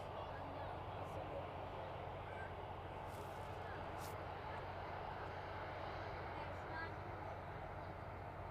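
Cargo aircraft on the runway at East Midlands Airport in the evening, a steady broadband engine roar that stays constant throughout, fairly distant, with faint talk beneath it.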